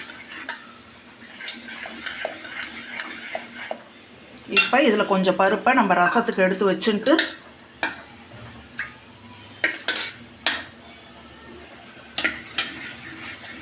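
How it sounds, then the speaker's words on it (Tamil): A ladle mashes cooked lentils in a pot, a few seconds of busy scraping and clinking amid a woman's speech and light kitchen clatter. "அதை கரண்டியால் ஒரு தடவை மசிச்சுக்கணும்"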